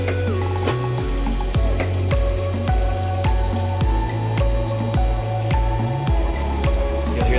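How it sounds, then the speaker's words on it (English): An Ice-O-Matic ice machine pump purges water during cleaning, giving a steady mechanical hum with a rhythmic, repeating cycle and continuous splashing, dripping water close by. "You'll hear that pump working, that's it cycling out all the water."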